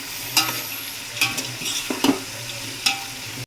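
Sliced onions fry with a little salt in a pan for pulao, a soft steady sizzle broken by several sharp scraping stirs of a spoon against the pan, close up with no talking.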